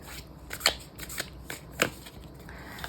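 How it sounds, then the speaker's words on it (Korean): Tarot cards are shuffled and drawn close by in a quiet room, soft papery riffles and slides punctuated by a couple of crisp snapping flicks, no talking. "상대방에 대해서 조금 더 카드를 뽑아보도록 할게요"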